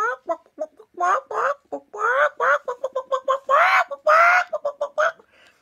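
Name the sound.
hen squawking loudly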